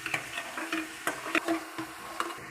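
Ghee hitting onions in a hot pan while cooking chicken yakhni pulao, giving a soft frying sizzle broken by scattered light clicks and scrapes of stirring.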